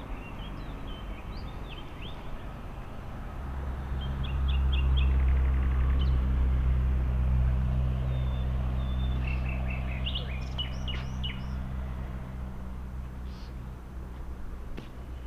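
Birds sing in a ravine near Anapa, repeated short chirps and quick trills scattered across the whole stretch, fairly close, over a heavy low rumble that swells in the middle.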